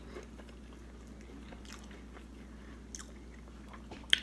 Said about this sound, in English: Got the crunch there, but you can also break your teeth.